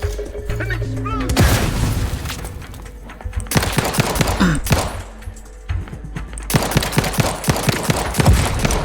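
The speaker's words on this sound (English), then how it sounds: "An explosion." Explosions and gunfire in the sci-fi video game Outer Worlds 2, with loud booming blasts and rapid bursts of shots repeating through the stretch, mixed with game sounds and a voice speaking over it.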